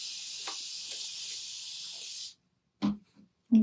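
Aerosol spray can hissing steadily for about two seconds while coating handmade ornaments, then cutting off, followed by a few faint handling knocks.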